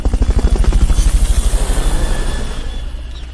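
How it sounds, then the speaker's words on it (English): A helicopter's rotor thumps in a fast, pulsing rhythm, loud and close, then fades into a smoother whine as it moves off; a Fulton Recovery helicopter in the game Metal Gear Solid: Peace Walker. "Fulton Recovery helicopter is complete."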